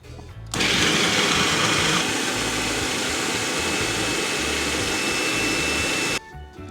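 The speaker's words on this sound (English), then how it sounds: "So now we're going to grind up some dal or split peas." An electric grinder grinds dal, or split peas, for kachori in a home kitchen in San Fernando, Trinidad, switching on abruptly into a loud, steady high whine for several seconds before cutting off.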